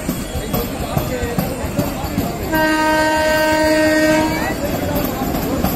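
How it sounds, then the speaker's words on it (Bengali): An air-conditioned white local passenger train pulls out of Duttapukur railway station, its horn sounding a sustained steady blast midway over the rumbling, clattering rail noise of the departing cars. "ঝাঁ চকচকে ট্রেন, সাদা কালারের, আমাদের চোখের সামনে দিয়ে দত্তপুকুর স্টেশন ছেড়ে চলে যাচ্ছে এই মুহূর্তে।"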